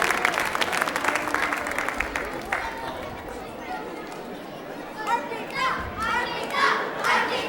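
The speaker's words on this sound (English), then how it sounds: "You all deserve huge round of applause" Applause at a children's dance recital, a burst of clapping that tapers off after a few seconds into excited children's chatter and shrieks, with adult voices mixed in the crowd noise.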